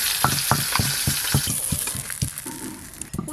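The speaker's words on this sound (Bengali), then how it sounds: "শাকের ঘন্টার জন্য প্রথমে কুমড়ো আর আলুগুলো একটু ভালো করে ভেজে" Pumpkin and potato pieces fry in hot oil with a steady close sizzle, broken by about a dozen regular scraping strokes of a spatula stirring the pan; no one speaks.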